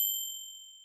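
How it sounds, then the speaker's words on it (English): A single clear bell ding, bright and ringing, struck once and decaying slowly alone. "We need a bell."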